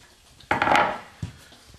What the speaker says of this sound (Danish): Træinstrumenter på pander.